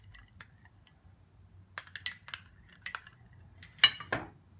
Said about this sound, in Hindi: और बस इन चीज़ों को हम मिक्स करेंगे अच्छा सा।